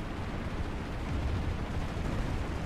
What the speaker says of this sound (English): my turret gunner just decided to start shooting